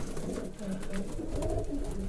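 Pigeons, including Polish Widyn and Hamburg owl breeds, coo from an aviary in low, soft, throaty murmurs that overlap over a steady background.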